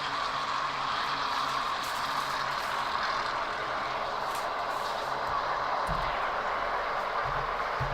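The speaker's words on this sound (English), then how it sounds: "We're underway, and Daniel Suarez with the jump." NASCAR Cup stock cars roaring off at the start of the All Star Race at North Wilkesboro, a dense, loud, sustained engine drone from the field rumbling continuously across the whole stretch.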